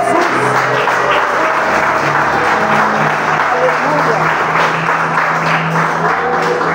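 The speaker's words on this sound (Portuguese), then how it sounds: "Quem crê assim, receba, batendo palmas e enaltecendo ao Senhor Jesus." A worshipping congregation in a church service claps hands together, a sustained, dense clapping crowd close and loud, with voices and a low musical drone running beneath it.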